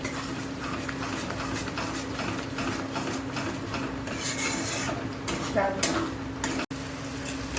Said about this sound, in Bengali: এখন এটাকে আমি ভালো করে একটু নাড়াচাড়া করে নিই 5 মিনিট।